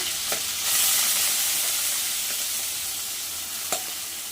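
Kandan kaya pieces fry in oil with spluttered mustard seeds, a loud, continuous close sizzle and hiss with a couple of brief utensil taps, no voices.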